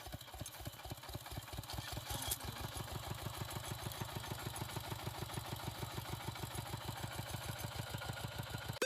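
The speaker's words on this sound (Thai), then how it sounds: "คำตอบคือข้อกอไก่เสียงของรถไถนาเดินตาม" A walk-behind tractor engine chugs at idle, a rapid, even single-cylinder thumping that stays steady and fairly quiet throughout with no voices.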